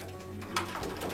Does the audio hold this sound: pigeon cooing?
yes